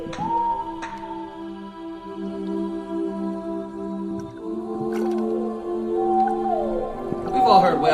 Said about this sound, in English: We've all heard whale sounds to study to.